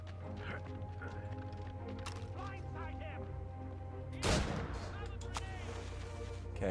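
A gunshot goes off in the Assassin's Creed Rogue video game, a single sharp loud crack with a brief burst of crashing noise around the middle, set over a steady droning game soundtrack.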